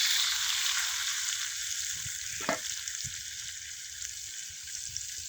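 Fish frying in hot oil in a pan during outdoor home cooking, a steady close crackling sizzle with a few brief spits and stirs, fairly quiet and with no voices.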